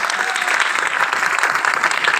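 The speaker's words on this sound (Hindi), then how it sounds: "एक बार ताली बजाओ जरा" An audience at a gathering breaks into brisk, continuous clapping, many hands close and loud, with a dense even patter throughout and no gaps.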